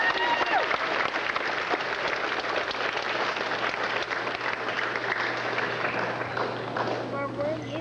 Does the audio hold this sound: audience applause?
yes